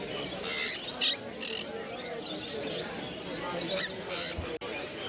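Blue monk parakeets at a bird market in Kolkata, giving short harsh squawks over a busy crowded background murmur, fairly close, with people talking around them.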